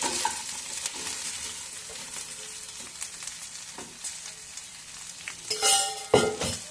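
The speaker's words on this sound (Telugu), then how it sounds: "ఈ పచ్చిమిరకాయలు కరేపాకు వేపేశాను దీంట్లో ఈ గోబీ పకోడీ వేసేసుకుంటాను" Gobi pakodi hitting hot oil in a pan with fried green chilies and curry leaves, a steady sizzle with spoon scrapes and clinks, louder bursts of frying near the end.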